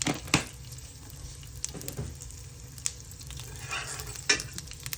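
Panch phoron spices sizzling in hot oil in a pan, a soft steady crackle with a few sharper spatters and clinks, heard alone with no talk.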